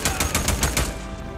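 A rapid burst of roughly six close, loud gunshots from the Days Gone video game during an ambush-camp fight, evenly spaced and cutting off abruptly.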